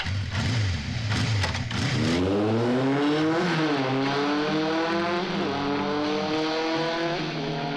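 A car engine revs hard and climbs through rising pitch sweeps as the vehicle pulls away, loud and close, with a brief rough burst at the start and no talking.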